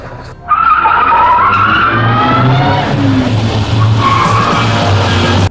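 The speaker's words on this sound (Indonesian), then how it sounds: "Rudy terus memepet mobil Kobra. Terjadilah pengejaran yang menghabiskan durasi film" Tires skid and squeal loudly under a revving car engine during a car chase in a 1983 Indonesian action film, a sustained screech that starts abruptly and runs continuously to the end.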